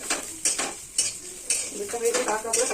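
Spices hit hot oil in a home-kitchen pan and sizzle and spit in short hissing bursts, with a utensil stirring and clinking against the pan close by; no one talks.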